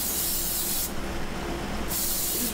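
Baking spray hissing from a can into a cake pan for a devil's food cake, two close, steady sprays separated by a brief pause, with no talking.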